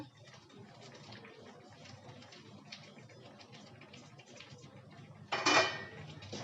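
Khoya kheer stirred in a pan, with soft steady scraping and clinking of a utensil against metal at low level, then a brief louder clatter near the end.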